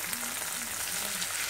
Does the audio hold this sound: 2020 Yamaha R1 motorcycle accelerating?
no